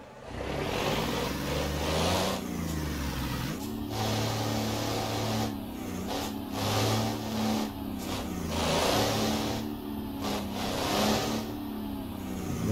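A Mercedes Atego 3030 truck in Euro Truck Simulator 2 accelerates with a steady mid-pitched engine drone that rises and drops across gear changes, running loud and continuous throughout.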